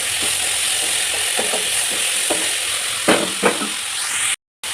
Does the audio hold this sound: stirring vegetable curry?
yes